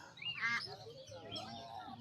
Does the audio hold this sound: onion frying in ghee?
no